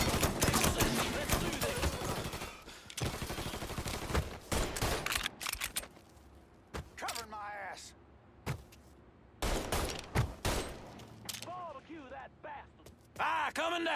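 Rapid gunfire bursts crack through a Mafia 3 shootout, volleys of shots repeating in clusters amid loud combat noise, with voices talking between and over the shots.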